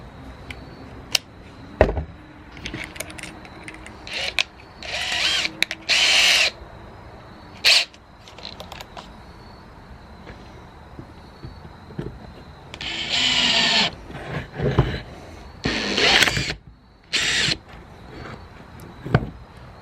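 A DeWALT 20V cordless drill runs in several short, loud, close bursts, likely driving into a wooden table, with clunks and handling noise between the bursts.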